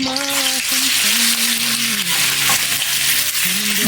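Shredded garlic frying in cooking oil, a dense, continuous close sizzle holding steady throughout, with a low tonal hum running underneath.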